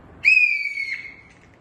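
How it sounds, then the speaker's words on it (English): A teacher blows a whistle at a school to start a fire drill: one shrill, steady blast of about a second, close and loud, in a quiet room. "Teacher blow the whistle to alert all the children that fire drill is start now."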